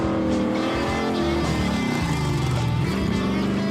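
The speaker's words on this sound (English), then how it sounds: "More violent off-roading." A Wreck Runner off-road vehicle is driven hard over rough desert ground, its engine roaring steadily and loudly up close with rising and falling revs and no talking.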